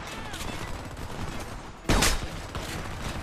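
A single sharp sniper rifle shot rings out in the shooter game Homefront, a loud close crack near the middle that stands out above steady background battle noise.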